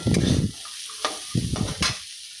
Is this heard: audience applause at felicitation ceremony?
no